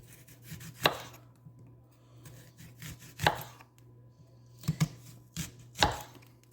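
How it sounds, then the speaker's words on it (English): A knife slices a small onion into rings on a cutting board, giving several sharp, separate chops with irregular pauses between them, close and clear over a steady low hum, with no voices. "So I'm going to cut it this way."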